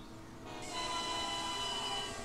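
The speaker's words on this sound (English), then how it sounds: "I hate the whistles for the electric trains." A synthetic electric-train whistle from the railway simulation game Transport Fever: a sustained, bright, steady tone that swells in after a quiet lead-in and holds for about two seconds over faint rail rumble.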